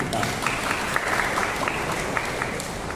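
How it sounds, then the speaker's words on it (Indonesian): Congregation applauding at a wedding ceremony, a steady round of clapping with individual claps standing out, moderately loud throughout. "tepuk tangan untuk kita"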